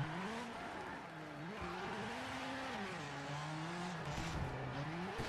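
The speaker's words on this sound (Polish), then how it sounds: "gazu dodajesz i auto w miejscu kołami mieli" A rally car in the WRC 7 video game revs with its wheels spinning in place, a steady engine drone rising and falling in pitch, moderately loud and alone.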